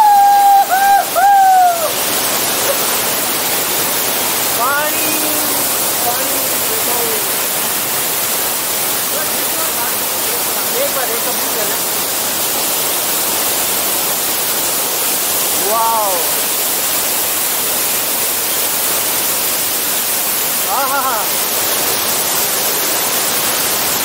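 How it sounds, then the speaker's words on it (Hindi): Dabbe Falls pours with a constant, loud broadband rush of flowing water that fills the whole stretch, while a few brief voices and whistles surface faintly over it. "यहाँ पे आप देख सकते हैं पानी का बहाव है।"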